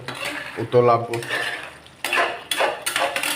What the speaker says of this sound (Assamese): তো এনেকৈ লৰাই দিম